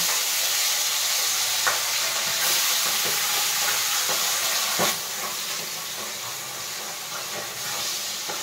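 Steady loud sizzling and crackling of pabda fish frying in hot oil, with occasional sharp pops, continuous throughout with no talking.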